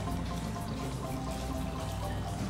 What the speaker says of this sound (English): And we're going to add about 2 ounces of our rum